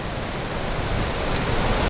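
The York River near Bancroft rushes past in a steady, loud, broadband wash of water, continuous and close, with no voices.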